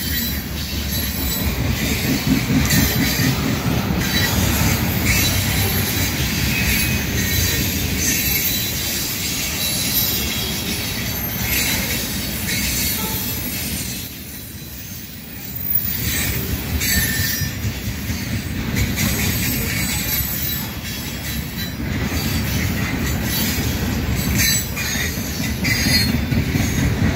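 A CSX ethanol freight train led by a CN EMD SD70M-2 locomotive rolls steadily past nearby, with loud continuous wheel rumble, rhythmic clacking over rail joints and squealing wheels.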